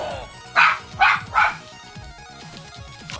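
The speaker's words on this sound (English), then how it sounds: "my dog is barking." A pet dog barks three loud, close barks in quick succession, with a faint whimper beneath them and a busy video game soundtrack running throughout.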